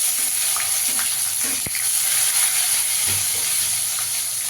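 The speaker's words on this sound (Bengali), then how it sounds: "পেঁয়াজটাকে একটু লাল করে ভেজে নেব" Chopped onion frying in hot oil with bay leaf and whole cumin, a steady close bright sizzle with faint stirring clicks and scrapes, no voices.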